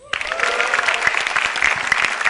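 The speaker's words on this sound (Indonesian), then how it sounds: "Yang jelas tepuk tangan buat komik-komik sebelum saya" Steady applause from a comedy show audience, dense clapping that swells in quickly and holds loud throughout.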